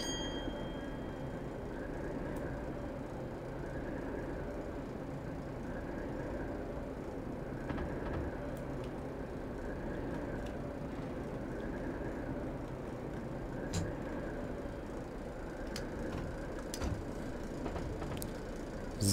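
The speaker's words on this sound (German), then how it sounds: "Also der wackelt schon ganz gut, der Zug." An express train in Train Simulator 2016 runs steadily on rails, a continuous loud rumble with rhythmic clicking and rattling of the cars and occasional metallic knocks.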